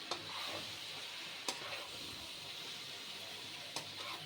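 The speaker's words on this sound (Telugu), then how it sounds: "అలా కలుపుకోవడంలో కూడా కొంచెం స్మూత్గా కలుపుకుంటే ఫిష్ ముక్కలు అనేవి విరగకుండా" Fish curry with masala being stirred gently in a pan, a faint steady sizzle with a few soft scrapes of a spoon.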